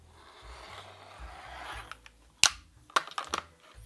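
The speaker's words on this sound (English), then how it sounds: "I'm gonna use my strap cutter to come through and cut a couple straps" Strap cutter drawn through leather to cut straps for keychain prototypes, a soft scraping glide followed by a few sharp clicks and snaps close up.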